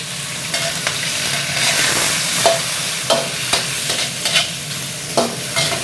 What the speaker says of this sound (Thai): เสร็จแล้วเราก็เอากุ้งนะครับ ลงไปผัดก่อน